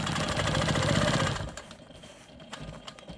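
A home sewing machine quilting stitch in the ditch along a seam line on a rolling stone quilt block, running as a steady, rapid mechanical whir that stops partway through, leaving quieter handling noise.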